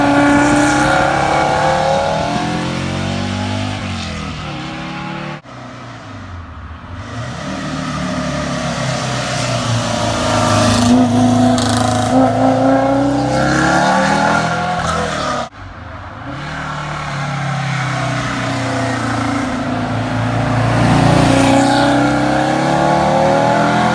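A modified Honda NSX sports car engine revs hard and climbs through the gears with rising whines, dropping briefly at two shifts before pulling again, loud and close.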